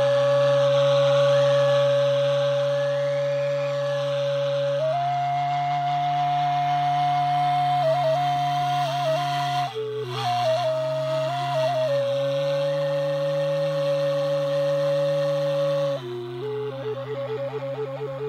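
A chuur, a Mongolian wind instrument, plays a sustained droning tone with a steady low drone under gliding upper pitches, imitating the waves and wind of Kanas Lake. The sound is loud, close and continuous, with pitch shifts partway through.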